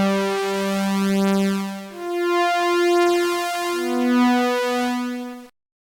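A Serum synth tone with an LFO modulating oscillator A's fine pitch, sounding as a sustained retro-style synth note that steps and bends through several pitch changes before cutting off abruptly into silence.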